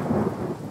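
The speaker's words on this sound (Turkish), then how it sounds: "Yağmur geliyor, hadi içeri girelim." Thunder and rain outdoors, a brief low rumble of thunder over the hiss of falling rain, with no voices.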